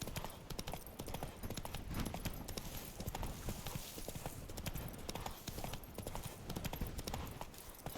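Roach the horse gallops in The Witcher 3, hooves clip-clopping in a steady fast rhythm, loud and close throughout, with faint game ambience and no talk.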